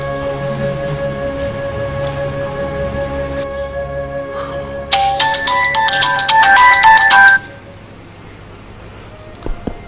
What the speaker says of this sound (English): you left your phone in the other sitting room and it rang